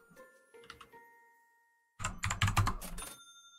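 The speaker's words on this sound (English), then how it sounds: "Hope you guys are enjoying the sound of my clicky-clacky keyboard." A clicky mechanical computer keyboard: a few light scattered keystrokes, a pause, then a loud close burst of rapid clacking typing.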